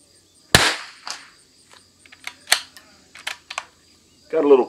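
Sharp, close gunshot cracks from a Christensen Arms Ranger .22 rifle at an outdoor range, one loud report followed by several fainter snaps and clicks, then a short burst of speech at the end.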